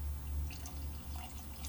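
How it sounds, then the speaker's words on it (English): Van Winkle 12 Year wheated bourbon poured into a glass, a soft close trickle and drip over a low steady hum, with no talking. "Let's go ahead and pour this out."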